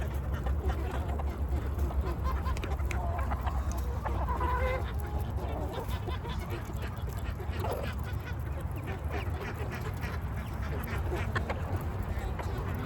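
Chickens cluck and murmur continuously in a busy flock, with occasional duck-like quacks mixed into the steady farmyard chatter as the hens eat freeze-dried black soldier fly larvae.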